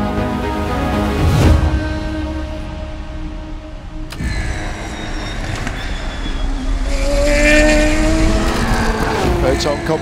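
Porsche race car, the number 93, lapping at Le Mans, its engine a loud continuous drone with rising pitch sweeps as it accelerates, while a commentator talks over it throughout.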